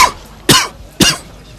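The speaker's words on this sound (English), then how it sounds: "and I'm coughing every 5 minutes." Two sharp, loud coughs from a person with a cold, spaced about half a second apart, each a harsh burst that fades quickly, with no talking.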